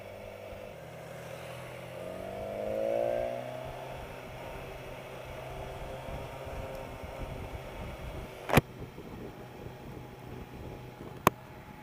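A touring motorbike rides along the road to Glenorchy, New Zealand, with a steady low rumble of engine and wind noise. It holds an even drone throughout, with two sharp clicks near the end and no speech.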